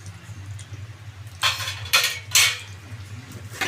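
A potato curry is stirred in a cooking pot: three short scraping clinks of a spoon against metal ring out over a low steady hum, each about half a second long and close by.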